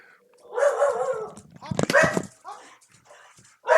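A pet dog barks and yips indoors in a home office, with a few sharp, close barks and a whine mixed in, while someone speaks nearby.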